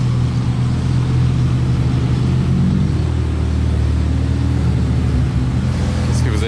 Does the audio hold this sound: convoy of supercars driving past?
yes